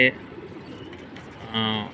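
Brief pigeon coos open and close the moment in a pigeon loft, a soft cooing bird sound with quiet rustling between.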